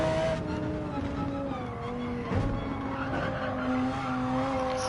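Sustained tyre squeal from a race car in Gran Turismo 7 at Dragon Trail Gardens, high whining tones wavering over a steady engine drone, loud and continuous throughout.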